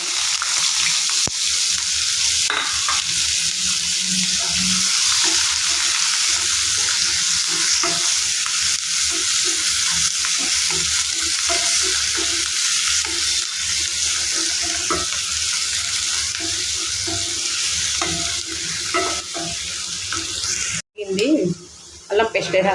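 Onions and two bay leaves fry in hot oil for a chicken fry, giving a steady loud sizzle with stirring clinks throughout. The sizzle briefly drops out near the end before resuming.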